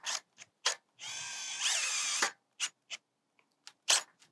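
A power driver sets 3/4 inch screws into a roof vent hinge, with a short whirring run bracketed by quick clicks and taps of the driver and metal, close and fairly quiet.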